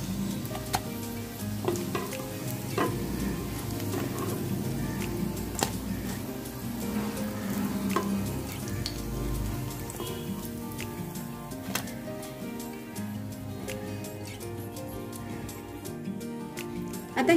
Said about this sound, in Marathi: आता ह्याच तेलामध्ये मी अजून कटलेट बनवून घेते।